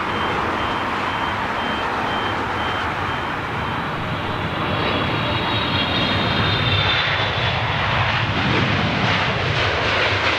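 A Jet Airways airliner's GE90 jet engines spool up at London Heathrow, a loud, steady broadband roar with a rising whine; a car alarm beeps over it.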